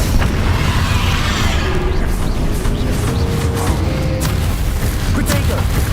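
Booming spell explosions from Bombarda and Confringo in the Hogwarts Legacy video game, loud and continuous with repeated bursts over a dense rumbling game soundscape, with a voice speaking over them.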